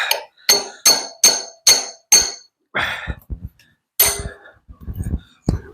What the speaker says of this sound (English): just getting through that first bit without getting your chisel stuck